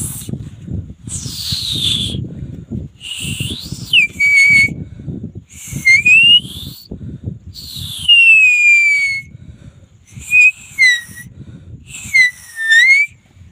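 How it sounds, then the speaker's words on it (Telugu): A homemade natural whistle is blown in a series of shrill, sliding tones, rising and falling in about seven separate bursts with brief gaps, loud and close over low rustling handling noise. "నేచురల్గా విజిల్ మనం ఇలా చేసుకోవాలన్నమాట"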